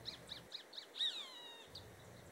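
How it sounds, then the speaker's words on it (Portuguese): Rufous-collared sparrow (tico-tico) in the hot, dry Brazilian Northeast, giving a string of short, high repeated chirps followed by a longer descending whistled trill, moderately near over faint background hiss. "Aqui a gente conhece como Tico-Tico, mas é mais conhecido como Jesusinho, meu Deus, que o canto dele canta igual falando a palavra de Jesus"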